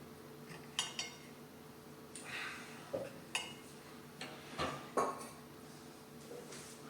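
A knife cuts into a warm apricot upside-down cake still in its pan, giving scattered light metallic clinks and scrapes against the pan. About half a dozen sharp taps are spaced irregularly over a quiet background.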